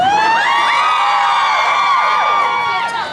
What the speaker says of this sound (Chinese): 几万人的尖叫声吗？